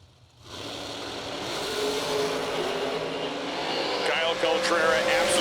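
NHRA drag race cars run side by side down the strip at the SFG Jegs Million bracket event, a loud steady engine roar building slightly toward the end, with a commentator talking over it.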